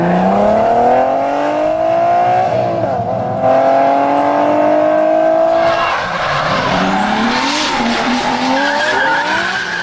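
A VW Golf 5 engine with 300,000 km revs and climbs in pitch, loud and close, with tires squealing as it accelerates, then dips and rises again.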